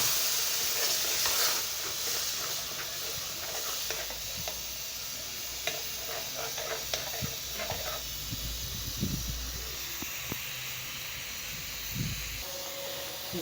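Tomatoes simmering in a pan with butter, black pepper and dried coriander give a steady soft sizzle and hiss, with occasional scraping stir clicks, near and continuous with no talk.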